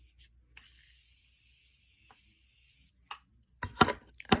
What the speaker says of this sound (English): I have a setting spray by Morphe.